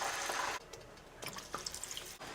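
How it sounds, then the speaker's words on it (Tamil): Water splashes and trickles into a mixer grinder jar for a vegetable kulambu in short, close bursts with dripping gaps between pours. "இப்போ மிக்சி ஜாரை கழுவி இதுக்கு தேவையான அளவுக்கு தண்ணி ஊற்றிக்கலாம்"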